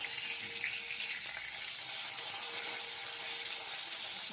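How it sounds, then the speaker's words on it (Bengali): Fish frying in a pan, a steady, faint, even sizzle with no talking. "মাছটা ভাজবো এবং আলুগুলো বনিয়ে উল্টিয়ে নেবো মাছগুলো"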